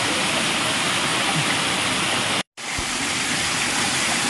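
Forest stream in the Girnar hills near the Jata Shankar temple, a loud, dense rush of falling water that runs on without a break apart from one short gap partway through.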